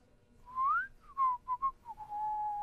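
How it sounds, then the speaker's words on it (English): A person whistles a short, rising-and-falling tune, a few clear notes and a held final tone, nearby in a quiet room. "Your innocent whistling doesn't fool me."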